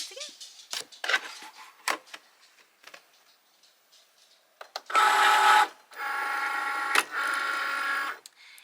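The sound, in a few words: Cricut cutting machine cutting out material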